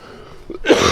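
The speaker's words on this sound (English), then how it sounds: "I'm so sorry for sniffling and coughing." A person with a cold gives a single close, sharp cough after a moment of quiet breathing.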